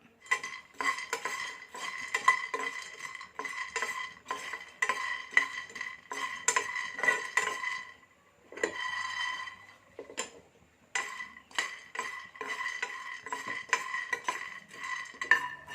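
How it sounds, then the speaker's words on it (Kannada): Peanuts roasting in a dry pan, stirred with a spatula: dense rattling and scraping of nuts against metal in repeated bursts, with a brief pause partway through before the stirring resumes. "ಈ ಥರ ಶೇಂಗಾ ಹುರ್ಕೊಳ್ಬೇಕು."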